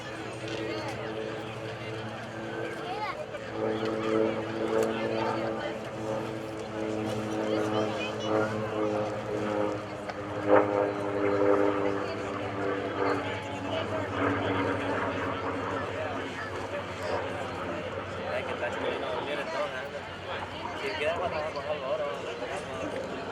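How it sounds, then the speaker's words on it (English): A Curtiss SB2C Helldiver dive bomber, a WWII propeller aircraft, dives past at an air show open house with a steady engine drone. A public-address announcer talks over it throughout. "Diving in from the left once again, we've got the SB2C Helldiver."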